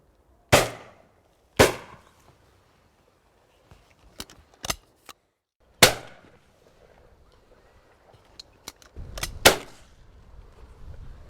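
Shotgun blasts ring out in quick succession while pigeons are being shot, a handful of sharp, loud cracks spaced irregularly with fainter clicks and knocks between them and no talking.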